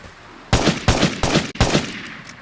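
An automatic weapon in the video game Vigor fires four short, loud bursts in quick succession, each a rapid rattle of close shots, with quiet gaps between and a fading tail.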